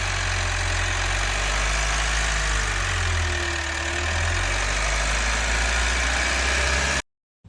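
The Cummins diesel engine of a Foton Traveller van with 200,000 km on it idles with a steady, loud low rumble and a faint knocking texture, running unbroken before cutting off abruptly at the end.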